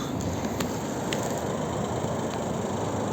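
A steady, even rumble and hiss of an idling 2015 Ford Focus 1.5 diesel exhaust, close up, with a few faint ticks and no voices.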